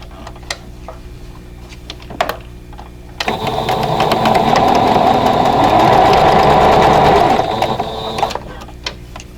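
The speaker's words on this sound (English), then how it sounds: "now I'm going to go ahead and sew these two rows together" A sewing machine stitches rows of a quilt block together in one loud, close, steady whirring run of about five seconds, framed by quieter handling clicks and fabric shuffling before and after.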